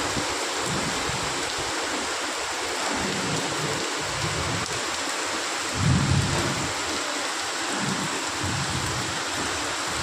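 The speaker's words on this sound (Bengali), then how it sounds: "বিশাল বৃষ্টি হচ্ছে।" Heavy rain pours steadily on a waterlogged street with low, rolling thunder rumbling underneath, one swell louder than the rest, and no voices.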